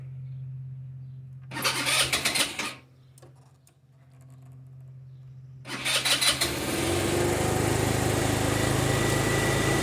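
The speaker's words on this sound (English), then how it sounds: "It idles high. That's normal for a high idle on these scooters." Small scooter engine cranking in a short burst, pausing, then cranking again and catching, settling into a steady, fairly loud high idle of about 1800 RPM, heard up close with no talking.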